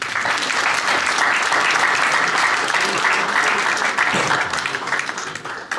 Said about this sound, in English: So just can you give her a round of applause, please?